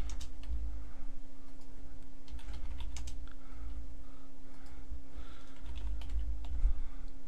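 Steady, close typing on a computer keyboard while entering text in Microsoft Word 2010, quiet irregular key clicks over a low electrical hum.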